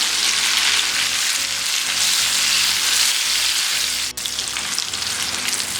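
Chopped tomato frying with onion on a tawa for mutton chops gives a steady, loud, close sizzle that runs the whole time, with one sharp utensil click near the end and no talking.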